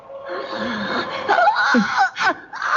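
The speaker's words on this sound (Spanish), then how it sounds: "Es como un lamento, un grito plañidero." A wailing, plaintive cry in a Spanish-language audio drama of the fall of the House of Usher, a strained, wavering vocal lament heard close and loud for nearly three seconds, breaking into gasping sobs.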